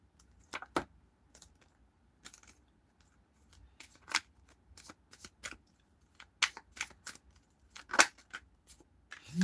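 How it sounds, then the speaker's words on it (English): Tarot cards shuffled by hand in short, crisp riffles and taps, close and fairly quiet, arriving in irregular bursts with brief pauses between them and no talk over them. "Shuffle."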